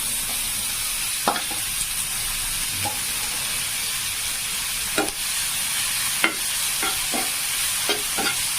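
Chowmein with egg, onion and potato stir-fried in a pan: a steady loud sizzle with a faint high hiss, broken by irregular scraping strokes of the spatula, and no voices.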